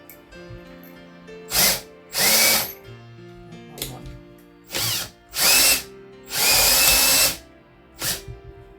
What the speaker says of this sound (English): we're just going to try and drill through as straight as possible through both sides